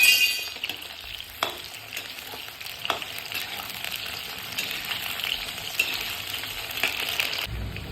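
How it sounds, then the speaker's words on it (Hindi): Okra and cauliflower pieces deep-frying in hot oil until golden brown, a steady close crackling sizzle throughout with occasional sharper spits and faint clinks, no voices. "सारी सब्जियों को इसी तरह फ्राई करते रहना है।"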